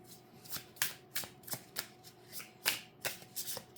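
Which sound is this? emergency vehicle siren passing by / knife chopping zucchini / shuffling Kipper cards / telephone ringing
shuffling Kipper cards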